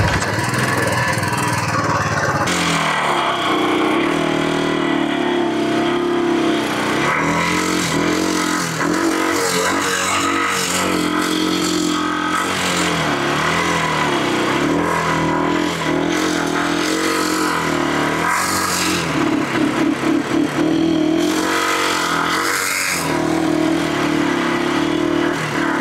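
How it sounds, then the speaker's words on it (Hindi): Four motorcycles rev hard together while pulling an e-rickshaw in a tug-of-war, a loud, continuous, layered engine drone that surges and dips in pitch throughout, with no talking. "आप लोग स्टार्ट कर लीजिए बाइक अपना।"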